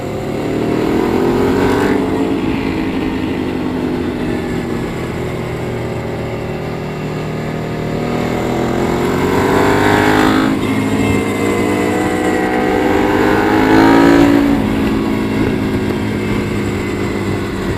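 An EBR 1190RX and a Yamaha R1M motorcycle ridden hard on a race track, engines droning loud and steady with rising and falling pitch as they shift gears, heard close and continuous.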